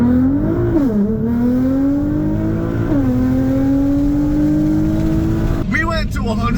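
A Nissan GTR accelerates hard, its engine note rising steadily through the gears with brief dips at each shift, loud and close from inside the cabin, and voices cut in near the end.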